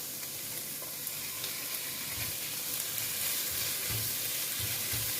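Chicken pieces sear in a hot pan with a steady, close sizzle and frying crackle, joined by occasional stirring scrapes, with no voices.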